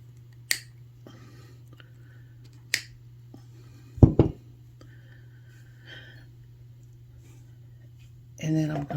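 Cutters snip thin jewelry wire in a quiet room: a few sharp, isolated clicks, with one louder, crisper snap near the middle.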